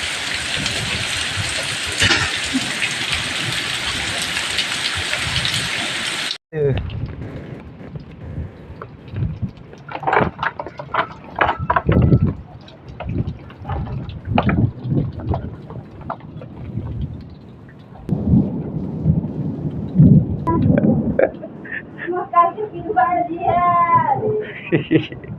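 Heavy rain pours down loudly, first as a dense steady hiss, then continues patchier under a person talking close to the microphone, with gusts of wind noise; no distinct thunder stands out.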